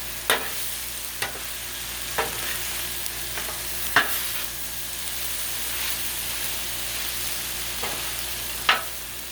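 A spatula stirs loaded mac and cheese across a hot Blackstone griddle, giving a few sharp scrapes and taps spaced every second or two over a steady background sizzle.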